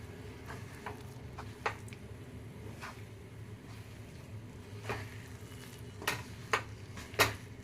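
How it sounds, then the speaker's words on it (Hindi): Moong dal flour mixture stirred as it roasts on low heat for barfi: soft scraping with intermittent light taps and clinks of a spoon against the pan, quiet and close. "अब धीमी आंच में हमने भूनते हुए मिक्स कर लिया है"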